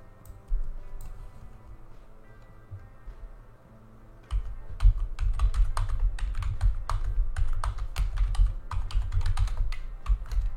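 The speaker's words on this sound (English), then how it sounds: "Y'all can probably figure out my password by the way I'm typing" Rapid typing on a computer keyboard, a quiet stretch of low hum and then dense, loud clicking keystrokes in quick irregular bursts, with no voices.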